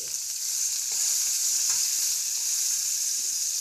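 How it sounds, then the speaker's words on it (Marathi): Crushed garlic dropped into hot oil in an Indian kadai sizzles and fries with a steady, close, bright crackling hiss that continues without pause, no voices over it. "आता हे तेल तापलेलं आहे. त्यामध्ये आपण हा ठेचलेला लसूण घालूया"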